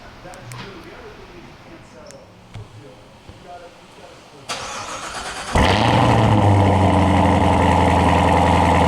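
A Chevrolet Corvette ZR1 starts by remote start after quiet background noise and a brief click, then the engine settles into a loud, steady idle.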